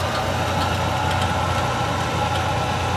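A Van Wert coal stoker's motor turns a pulley and gearbox to drive the blower, giving a steady, continuous mechanical hum and whir with low rumble, close by and unbroken, with no talk.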